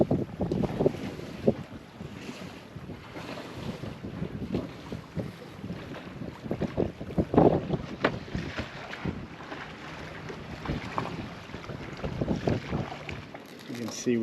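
A Beneteau 47 sailboat runs downwind under the headsail alone on the way to Marigot Harbor, St Martin, with constant wind buffeting the microphone and rushing water, rising and falling in gusts.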